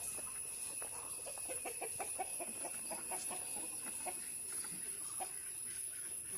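Chickens cluck softly in quick scattered bursts against a steady background hiss, faint and somewhat distant.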